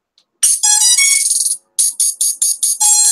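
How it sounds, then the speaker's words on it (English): A hobby electronics buzzer for a drone, just powered on, blares a loud, harsh, high-pitched tone close by: one long wavering burst, then a rapid string of five or six short, evenly spaced beeps. "I've got the most hilarious sounding buzzer"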